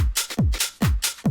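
A punchy drum groove loops with deep kicks sweeping downward and bright crashing hits on top, repeating in a swung, energetic pattern.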